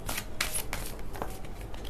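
Tarot cards are picked up and handled close by, with soft papery slides and flicks in a few quick bursts against a steady low background hum.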